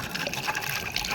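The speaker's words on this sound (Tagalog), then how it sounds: "Kuha tayo tubig, lagay natin dito para may inumin sila tubig." Water is poured into a container for pet dogs to drink, a brief, close splashing trickle with no talking.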